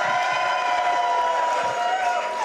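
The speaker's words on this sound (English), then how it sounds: "can I get a big cheer now?" Studio audience in a TV show's house set cheering loudly, a dense sustained roar of many voices with whoops running unbroken for a couple of seconds.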